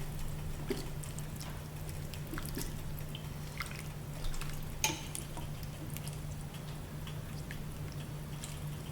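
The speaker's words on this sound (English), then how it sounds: "Give it a good stir." A spoon stirs coconut-milk Tom Kha Gai chicken soup in a pot, with soft scattered clinks and liquid sloshes over a gentle simmering hiss and a steady low hum.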